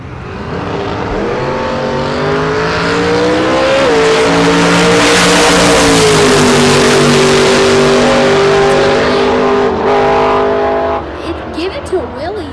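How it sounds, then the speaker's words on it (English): A Mustang and a Camaro launch at a drag race event with Top Fuel and Funny Car classes, a loud, sustained engine roar rising in pitch, while an announcer talks over it and it fades near the end. "In the Mustang, 1019 the dial-in. Scott Zoll, right side, out of Plainwell, Michigan. In the Camaro, 920 the dial-in there."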